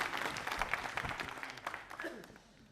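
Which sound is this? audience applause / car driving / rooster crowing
audience applause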